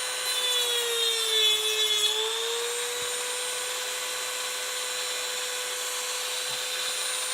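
Dremel rotary tool cutting a painted miniature model part held by hand: a steady high-pitched whine with a constant motor tone throughout, brief dips in pitch under load, close and loud with no talking.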